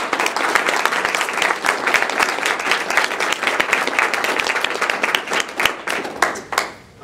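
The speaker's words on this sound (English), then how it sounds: "Another round of applause for our reading." An audience at a poetry reading and open mic night claps in a dense, steady round of applause that thins out and fades during the final second.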